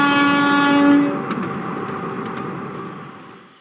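A steam train rushes past at close range with a loud, steady roar that fades away, its horn or whistle sounding briefly at the start and faint clanks following.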